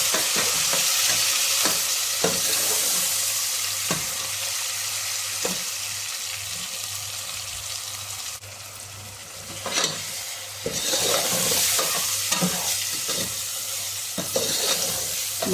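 Mutton curry with turmeric frying in a pot, an ongoing sizzle with repeated spoon scrapes and knocks against the pot, close and steady, no talking.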